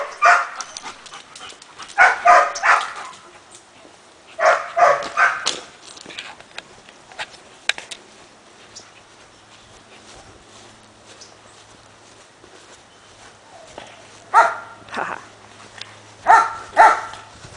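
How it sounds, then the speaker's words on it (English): A police dog barks in several loud, close bursts of rapid barks in a work driveway, with quieter stretches and low background rumble between the outbursts. "Or I'll send in my dog!"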